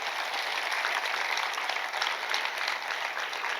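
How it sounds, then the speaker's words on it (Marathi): A church congregation claps loudly and steadily together for the Lord, a dense sustained round of applause that carries evenly throughout. "आपण सगळे टाळ्या वाजूया प्रभूसाठी जोरदार"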